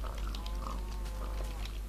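Pigs in Minecraft grunt and oink repeatedly in a quick, busy cluster, fairly close and steady, with game background hum underneath.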